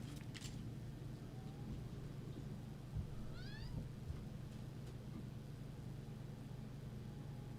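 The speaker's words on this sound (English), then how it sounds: "my cat wants to go out." A house cat meows at a door wanting to go outside, one short rising, wavering meow in the middle of a quiet room with a low steady hum underneath.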